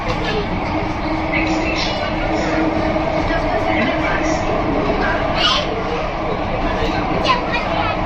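A Mumbai Metro Line 3 train carries riders with a loud, steady rumble and rushing hum throughout, faint squeals and clatter rising above it, and voices murmuring underneath.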